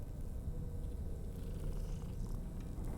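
A cat purrs in the video game Death Stranding 2, a soft continuous low rumbling purr, faint and close, with no talk over it.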